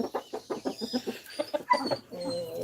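Rooster and other farmyard chickens calling and clucking close by in a backyard coop, a series of short rhythmic bursts with a sharper crowing cry near the middle, no talk.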